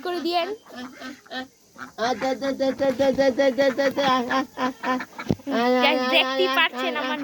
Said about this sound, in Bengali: দেখতেই পারছেন গাইস আমার নানা হাঁসগুলো কি পোষা হয়ে গেছে